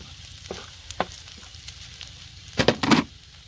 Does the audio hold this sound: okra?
yes